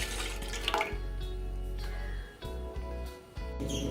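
Half a litre of milk poured from a container into a pan for tandoori chai: a close, steady liquid stream with gurgling splashes that pauses briefly and resumes near the end.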